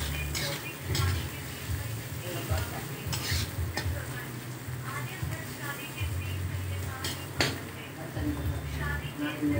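Vegetables fry in a pan with a continuous sizzle while a utensil stirs and scrapes in repeated clinks against the metal, and a person talks over the cooking at intervals.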